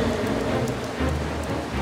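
Heavy rain pours down in a loud, close, unbroken roar of drops, heard on its own without any voices.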